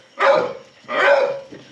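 A neighbor's dog barks twice outdoors on a rainy day, two fairly close, full barks about a second apart.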